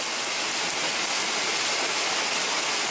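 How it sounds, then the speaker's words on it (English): Light rain falls steadily outdoors near horses, a dense, even hiss of drops with no pauses, close and fairly loud for the whole stretch. "It was just a little slight rain here."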